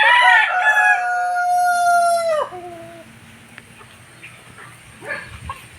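A White Leghorn rooster crows once loudly and close, a long rising-then-falling cock-a-doodle-doo, followed by faint clucks and quiet farmyard background.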